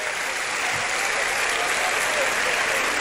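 Steady audience applause fills a hall at a state gathering of evangelizers, dense and continuous clapping throughout without pause.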